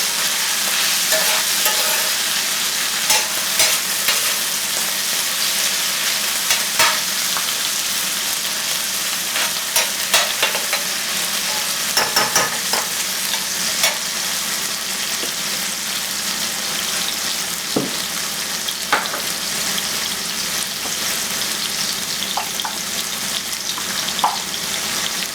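Salsa for chile relleno cooking in a pan, a steady, loud sizzle and crackle running throughout with scattered small clicks and scrapes from stirring, no talking.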